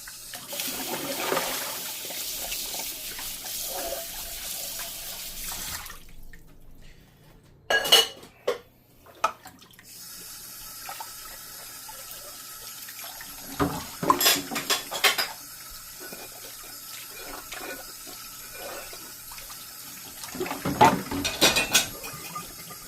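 Dishes washed by hand at a kitchen sink, with running tap water gushing in long stretches and clattering plates and cutlery clinking and knocking in bursts between quieter pauses.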